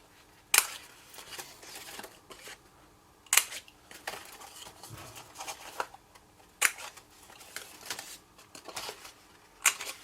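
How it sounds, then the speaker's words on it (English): Corners of card box pieces being rounded off with a cutting tool, sharp snipping cuts at a steady pace of about one every three seconds with soft paper rustling between, close and clear. "I'm going to round these corners off before I stick it all together"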